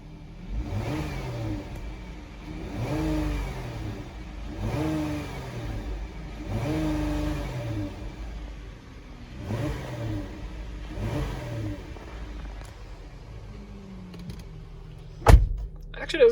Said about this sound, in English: Let's go and get a couple revs in, see how this V6 sounds